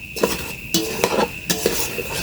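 Coconut chutney with a little ghee being stirred in a pan, giving repeated scraping and clinking of a spoon against metal in short bursts, close and fairly loud.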